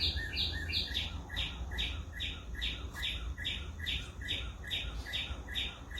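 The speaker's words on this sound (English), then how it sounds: "And here I got a bird outside hanging out with me." Songbird chirping outdoors, a quick bright chirp repeated in a steady, even rhythm, fairly close, over a constant low background rumble.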